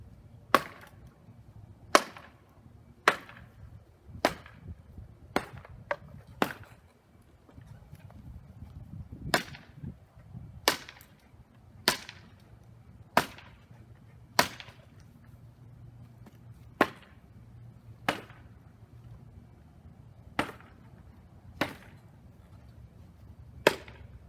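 A towel-wrapped homemade WWI trench club strikes a wooden dummy again and again, each blow a sharp, loud thud. About twenty hits come at irregular intervals with short pauses between them.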